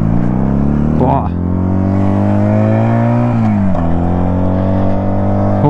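A 125cc two-cylinder chopper motorcycle engine revs loudly and up close, its droning pitch rising, dipping briefly with gear changes and climbing again in a continuous throaty roar.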